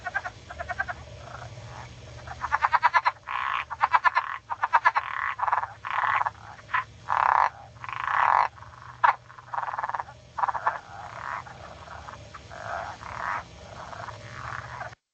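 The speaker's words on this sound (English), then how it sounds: "another frog species we might hear next month is the southern leopard frog" A recorded southern leopard frog call, loud and close, with rapid clicking pulses followed by a run of rough, chuckling croaks, heard alone without talk.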